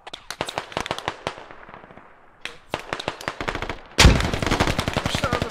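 Rapid bursts of gunfire and grenade blasts from the Squad military shooter game, steady cracking shots that thin out briefly, then a loud close explosion followed by dense continuous firing.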